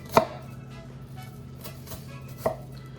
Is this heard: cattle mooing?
no